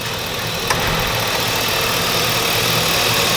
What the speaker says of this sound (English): I feel like I'm getting engine noise inside the truck.